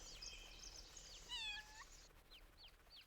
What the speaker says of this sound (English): very noisy cats